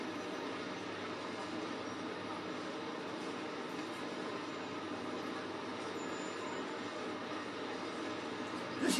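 Train Sim World 5 in-game train running the London to Brighton service, a steady rumbling rail drone with track noise held at an even level throughout and a brief louder clunk right at the end.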